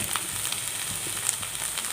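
Stuffing for stuffed pointed gourd, with cumin powder, chilli powder and turmeric added, fries in a pan, giving a close, continuous sizzle with small crackling pops and faint stirring.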